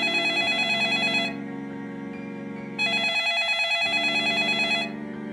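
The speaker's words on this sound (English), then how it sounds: "she won't stop calling my cell phone." A cell phone rings in bursts of a bright, repeating electronic ringtone, about two long rings separated by short pauses, loud and close with no talking.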